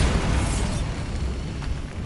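A Bombarda explosion spell from the Hogwarts Legacy video game, heard as a loud, dense blast of rumbling noise that holds steady for about two seconds without fading out.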